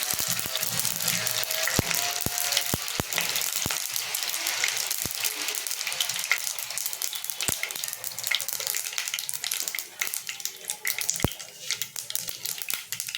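Mustard seeds and dried red chillies crackle in hot oil as a tempering for a Bengali fish and mango curry, a loud continuous sizzle with scattered sharp pops and taps throughout, no talking.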